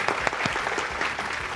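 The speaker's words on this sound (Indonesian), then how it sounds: "Tepuk tangan dong" Brief burst of audience clapping with distinct individual claps audible, moderately loud and fairly close, lasting under two seconds without talk.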